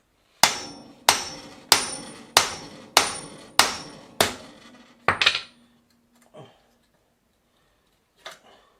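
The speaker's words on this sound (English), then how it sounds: "I need to hammer it out from the other side" Six evenly spaced metallic hammer strikes ring out loudly as a pressed-in bicycle bottom bracket is hammered out, followed by a clatter and a couple of faint knocks in near silence.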